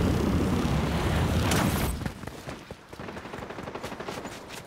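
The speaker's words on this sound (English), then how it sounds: "I hear shots now." Gunfire in Fortnite, a loud continuous automatic burst that drops after about two seconds into quieter, rapid repeated shots continuing to the end, no talking.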